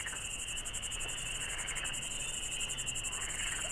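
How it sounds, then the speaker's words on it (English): Crickets chirp in spring woods at dusk, a dense steady pulsing trill that runs without a break, with a soft low background of frogs and no voices. "All you can hear is frogs and crickets in the woods."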